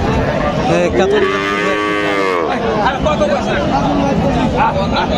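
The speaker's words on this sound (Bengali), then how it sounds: "এই গাভিটা একেবারে সেরা গাভী মনে হচ্ছে" A Friesian dairy cow at a busy cattle market gives one long, loud, close moo lasting over a second, set against constant crowd hubbub and chatter.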